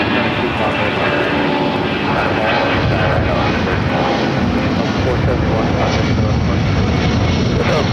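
An American Airlines jet begins its takeoff roll at Los Angeles International Airport, a loud, steady roar of engines spooling up that fills the whole stretch without a break.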